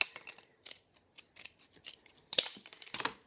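Scissors snipping small pieces for a fall fairy garden birdhouse, a quick series of close, crisp cuts in short bursts with brief silences between, no talking.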